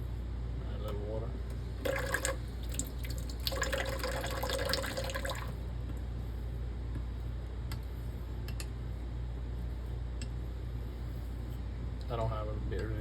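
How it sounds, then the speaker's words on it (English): Small drops of water splash onto a Japanese natural honing stone for straight razor finishing, a few faint wet ticks and trickles close by under a steady low hum, with a voice speaking briefly. "Add a little water."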